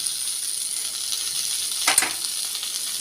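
Chopped fresh coriander leaves sauté in a hot pan, a faint steady sizzle with one brief louder scrape or stir midway.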